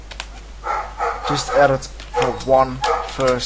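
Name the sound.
dog barking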